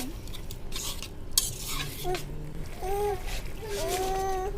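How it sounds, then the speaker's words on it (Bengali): Potatoes and chili are stirred and fried in a pan with a steady sizzle and the scrape of a utensil throughout. A person talks over the cooking noise. "এখন এই আলুটাকেও ভালো মতো কষিয়ে নেব।"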